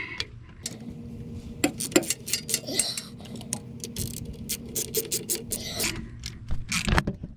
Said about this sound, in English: All right, put the old wrench on there.